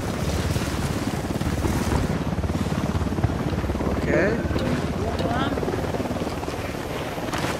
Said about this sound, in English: I'm gonna get the chopper first.